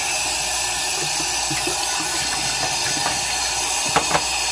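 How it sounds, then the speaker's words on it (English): Tap water runs steadily into a sink as an aquarium filter sponge from a Marineland Magniflow 220 canister filter is soaked, a constant close splashing rush with a few faint clinks. "Next, I'm just going to soak the sponge."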